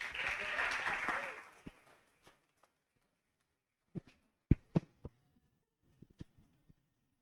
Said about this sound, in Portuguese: uma salva de palmas para o Jonatas.